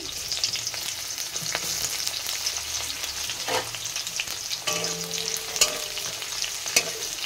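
Chopped onion and chopped chilli frying in a pan, a constant close sizzle broken by intermittent stirring scrapes and a few sharper spatters, with no talking.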